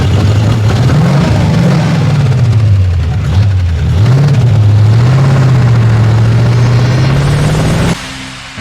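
A 1941 Ford Roadster engine runs loud and close, its low rumble rising and falling with revs as it pulls away before dropping off near the end.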